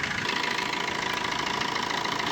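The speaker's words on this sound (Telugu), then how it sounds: "ఇంజన్ సౌండ్ కూడా స్మూత్ ఉన్నది" A 2011 Maruti Suzuki Swift Dzire VDI diesel engine idling, a steady, close, fairly loud clattering hum with even rhythmic knocking pulses and no voices.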